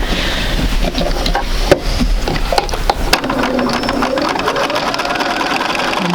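Sewing machine stitching a quilt seam, a loud close mechanical whir with rapid needle clatter and brief pauses, the motor pitch shifting as it runs.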